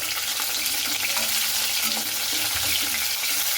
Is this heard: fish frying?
yes